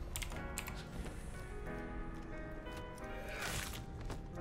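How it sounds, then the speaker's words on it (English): Rapid clicking of computer keyboard keys, dense and continuous, with occasional heavier strokes, close to the microphone. "I'll apologize now for the keyboard noises."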